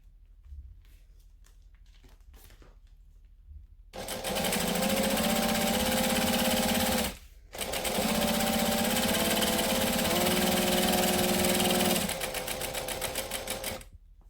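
A sewing machine stitches fabric an eighth of an inch from the edge in two loud, steady bursts of fast mechanical whirring, broken by a brief pause, with quiet handling noises before it starts.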